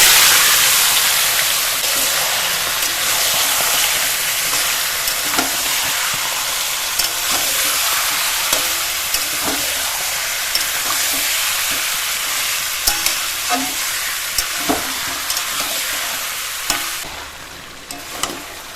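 Marinated chicken with bay leaves, dried red chillies and whole garam masala frying in hot mustard oil, a loud close sizzle and hiss broken by repeated scraping and clinking stirs that grow more frequent toward the end; no voices.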